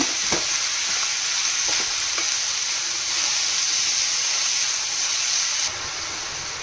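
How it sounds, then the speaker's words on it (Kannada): Crushed garlic fries in coconut oil, giving a steady close hiss and sizzle with a few soft stirring clicks, the noise dropping slightly near the end. "ನಾನು ಇದಕ್ಕೆ ಸ್ವಲ್ಪ ಕೊಕೊನಟ್ ಆಯಿಲನ್ನು ಹಾಕಿದ್ದೇನೆ. ಇದನ್ನು ಇವಾಗ ಚೆನ್ನಾಗಿ ಫ್ರೈ ಮಾಡ್ಕೊಳ್ಬೇಕು."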